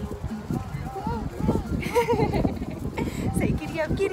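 Horse hooves clip-clop in a quick rhythmic patter during a pony ride at a pumpkin patch, close by, while people talk over the steady beat.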